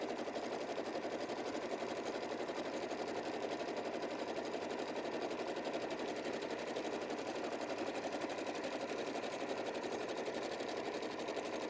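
Sewing machine stitching a seam on a quick cotton quilt, a fast, even mechanical chatter running continuously at moderate, close level with no talk.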